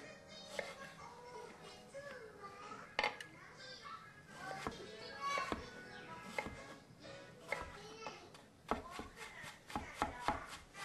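Knife dicing potatoes on a cutting board, a steady run of sharp chops that speeds into a fast even burst near the end, with faint background noise between strokes.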